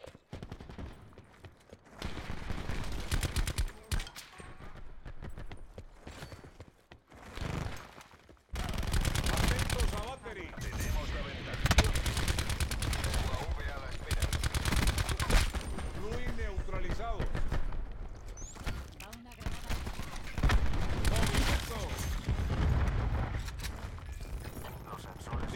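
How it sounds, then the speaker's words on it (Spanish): Sniper shots and bursts of gunfire ring out in the video game Rainbow Six Siege, sharp reports scattered through a busy stretch with a quieter lull early on, and voices heard throughout. "¡Disparos del francotirador!"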